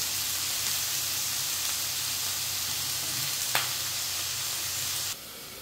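Brinjal sizzles steadily in a hot pan after salt goes in, a constant close frying hiss that cuts off suddenly near the end.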